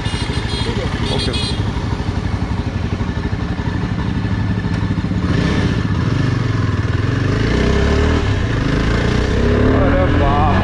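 A Yezdi Adventure motorcycle engine runs steadily on a test ride, a throbbing, rumbling exhaust note that swells slightly as it revs, loud and continuous throughout with a rider talking over it.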